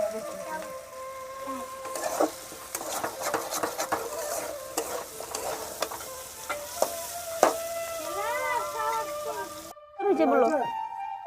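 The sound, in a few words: potato bhaji frying and being stirred in a pan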